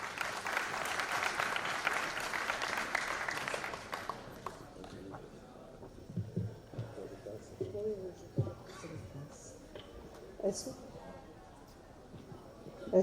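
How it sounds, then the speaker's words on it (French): A conference audience applauds a keynote speaker, dense clapping for about four seconds that fades into scattered claps, shuffling and indistinct murmurs in the hall. "sous vos applaudissements"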